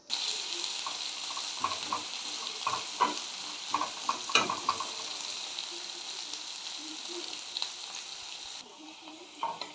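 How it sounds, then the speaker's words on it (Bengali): Onions sizzle and fry steadily in hot oil tempered with whole cumin, dry red chillies and bay leaves, with scattered stirring scrapes over a continuous crackle and no talking. "পেঁয়াজটাকে আমি এখন ভেজে নেব।"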